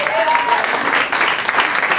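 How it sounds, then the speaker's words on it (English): An audience at a live performance event at The Windup Space applauds the performers, a continuous round of clapping with voices mixed in. "give them one more round of applause"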